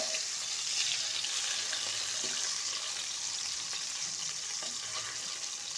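Pieces of rohu fish frying in hot oil, giving a steady, close, dense sizzle that holds level throughout with a few faint spatters and no talking.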